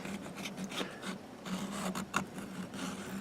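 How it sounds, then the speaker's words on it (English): A metal file rasps back and forth along the edges of a persimmon golf club insert in repeated short strokes, quiet and close, with no talking. "file the edges down"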